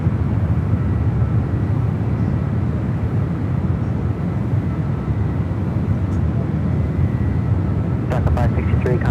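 Boeing 757 airliner at San Francisco airport, a loud, steady broadband jet roar filling the scene, with a faint voice over it.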